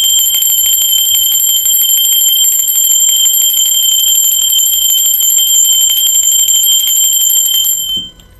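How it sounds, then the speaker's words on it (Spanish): A bell rings continuously for about eight seconds, a steady bright metallic tone held loud and close, then cut off abruptly, with a faint rustle at the end and no talking. "Allá vamos. ¡Va campana!"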